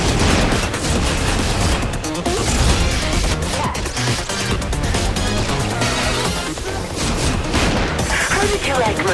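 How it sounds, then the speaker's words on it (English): Heavy 240mm rifle rounds firing in the action game Slave Zero X, a dense continuous barrage of loud blasts and crashes filling the whole stretch, with a voice speaking beneath the din. "How did you like my 240mm rounds?"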